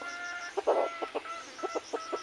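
A very small red junglefowl (labuyo) clucks close by, giving a cluster of short, sharp clucks in an uneven rhythm over a quiet outdoor background, with no talking.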